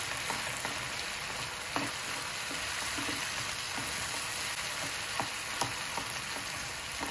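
Tomato and red chilli pickle fries in oil in a hot pan, making a continuous close, dense sizzle peppered with small crackles and pops that keep going the whole time, with no speech.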